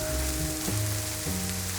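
Steady rain patters on surfaces through a dark night, a dense continuous hiss of drops that holds evenly under low background tones throughout.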